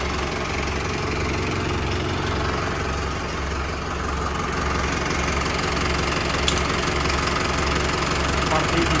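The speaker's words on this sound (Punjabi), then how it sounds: "ਸਾਡਾ ਰੇਸ ਖੋਲਣ ਲੱਗੇ ਸਾਡੇ ਟਰੈਕਟਰ ਦੀ" A tractor's diesel engine rumbles steadily close by with a knocking, throbbing idle that swells slightly as it is revved, thick low vibration throughout.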